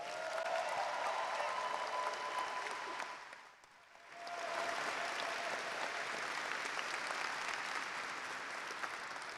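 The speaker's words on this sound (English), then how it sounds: "Please give Profe a round of applause." A high school graduation audience applauds a teacher with broad, steady crowd clapping that briefly dips to near quiet midway, then resumes just as full, with faint voices in the crowd.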